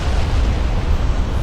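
A flash fire explosion aboard a warship in the naval battle game Ultimate Admiral: Dreadnoughts, heard as a continuous, loud, low rumbling roar that holds steady for the whole moment with no clear start or end.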